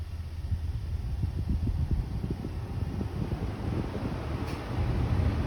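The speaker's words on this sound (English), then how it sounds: "All right, you heard the fans come on." Radiator cooling fans on a 2015 Lincoln Navigator running at low speed: a steady low whooshing hum with a slight fluttering churn, continuous and moderately loud, no voices.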